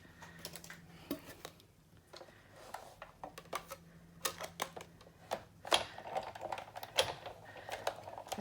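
Big Shot die-cutting machine cranking paper for a gift card holder, irregular clicks and ratcheting knocks close by, growing denser and louder toward the end.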